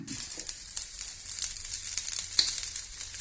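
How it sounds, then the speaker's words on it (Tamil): Chilli, onion, garlic and curry leaves sauté in oil in a pan for a pirandai chutney, giving a steady close crackling sizzle with small popping spits throughout. "வெங்காயம் வெள்ளை பூண்டு கருவேப்பிலை மூனையும் போட்டு வதக்கலாம்"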